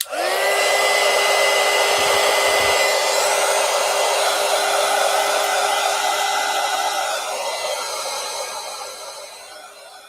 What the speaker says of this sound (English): I'm going to go ahead and hit this with the heat gun one more time